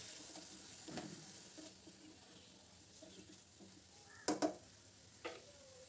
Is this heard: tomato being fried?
yes